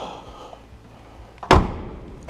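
A single solid car door thud on a 1963 Corvair Spyder shuts close by after a quiet stretch, followed by a brief fading rumble.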